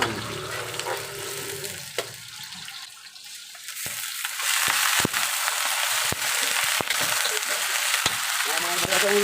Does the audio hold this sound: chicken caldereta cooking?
yes